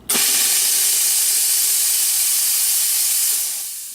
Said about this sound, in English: we will hit it with steam